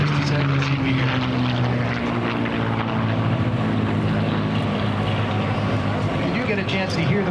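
An F-16 Viper fighter jet roars steadily through a demo flight at an air show, a loud, continuous rushing drone that shifts slowly in pitch, with voices talking over it.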